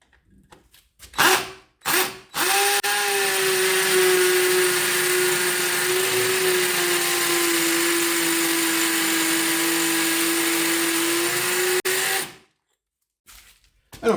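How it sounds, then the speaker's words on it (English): A Parkside PSBSA 20-Li C3 20V cordless drill in hammer drill mode runs for about nine seconds with a steady, close motor whine, preceded and followed by brief handling clicks. "And now let's try it on a hammer drill."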